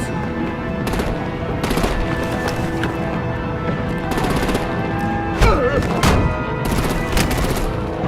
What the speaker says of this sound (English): Bring out the artillery and disable their vehicles!